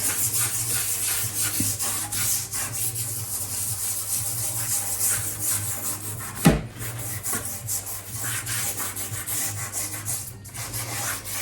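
Steady rubbing on a wooden kitchen worktop as product is worked hard into damaged, stained areas, a continuous close scrubbing texture with a brief louder knock midway.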